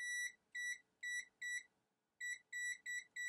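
A ZOTEK ZT-702S digital multimeter beeps on continuity test, a series of sharp, clear electronic tones in bursts of four with a short pause between groups, close and alone.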